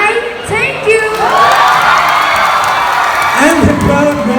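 A crowd at a Miss Talaba 2023 beauty pageant preliminary Q&A cheers wildly, with loud sustained shouts, whoops and screams rising and swelling together, close and continuous.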